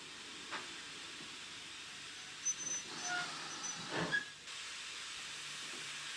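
A 262 tank engine overfilled with water lifts its safety valve, releasing a steady, fairly faint steam hiss that runs throughout, with a few brief louder puffs of steam midway.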